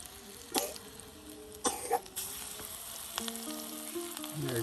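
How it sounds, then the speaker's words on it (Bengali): Lentil fritters (masoor dal bora) sizzle as they deep-fry in hot oil, a steady crackle broken by a few clinks and a couple of nearby coughs. "এই যে এখন দিয়ে দেওয়া হলো দেখুন ডুবো তেলে।"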